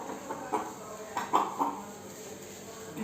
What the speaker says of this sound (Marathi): आज आपण आहे ना गावरान कोंबडा आणलेला आहे